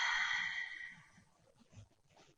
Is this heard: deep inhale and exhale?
yes